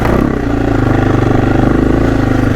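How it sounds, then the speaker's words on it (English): A motorcycle engine revs steadily and loudly up close while the clutch is feathered, a continuous throbbing mid-range drone with a slight pulsing waver throughout. "Feathering of the clutch."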